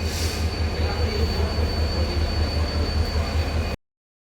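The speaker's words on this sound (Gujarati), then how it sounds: "ટ્રેન બહુ આવે છે અહીંયા" A train rolls through a railway station in Bhavnagar, giving a loud, steady rumble of wheels and carriages with a faint high wheel squeal. The sound continues without a break until it cuts off abruptly.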